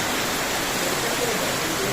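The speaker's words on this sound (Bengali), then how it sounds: "ঝমঝম ঝমঝম ঝমঝম কিরকম বৃষ্টিটা পড়ছে দেখো একবার" Heavy rain pouring down in a steady, dense downpour, a loud unbroken hiss that fills the whole clip with no voices over it.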